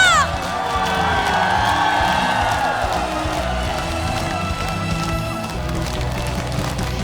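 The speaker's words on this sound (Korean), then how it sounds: "여러분 더 힘차게 박수와 함성 질러볼까요?" Loud crowd cheering and clapping at an outdoor trot concert in Yeoju, dense and continuous, with a rising whoop or whistle near the start and a sustained roar throughout.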